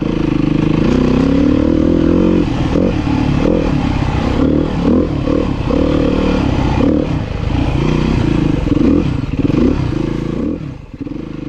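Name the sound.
Beta 390 dirt bike riding hard through deep mud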